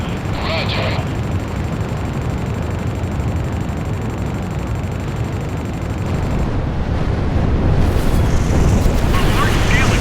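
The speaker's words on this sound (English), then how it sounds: "A large-scale explosion has apparently occurred in midair." Large midair explosion in a combat flight video game, a loud sustained roaring rumble with wind-like noise that swells slightly toward the end, a voice speaking over it.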